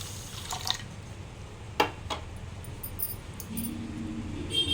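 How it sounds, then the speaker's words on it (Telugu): Water is poured into a pan of sugar to make jalebi syrup, a soft splashing trickle with a few drips and light metallic knocks, quiet and close, with no talk. "తగినంత వాటర్ వేసుకుందాం"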